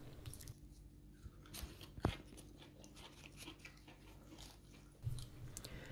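Leaf lettuce grown indoors is chewed close up, with a few soft, quiet crunches and bites.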